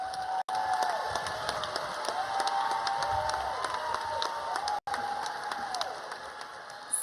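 Applause and cheering from a crowd at a medical school white coat ceremony, steady and moderately loud, with broad continuous clapping and a few voices rising over it.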